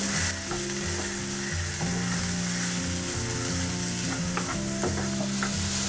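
Onion, carrot, capsicum, cabbage and tomato fry in a pan over a low flame, making a continuous close sizzle with a few light clicks of stirring and no talking.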